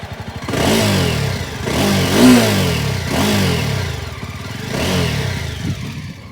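A Jawa motorcycle engine revving repeatedly, each rise in pitch swelling and falling back to a throaty, thumping idle, loud and close.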